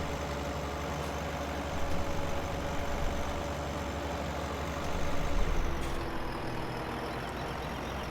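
A tractor engine in a farming video game idles and runs steadily, a low continuous rumble with a slight swell midway, heard alone without speech.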